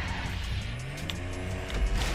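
A racing car spins out in the GTA video game with a sharp tire skid and squeal over the engine note, one short sliding screech that rises and falls.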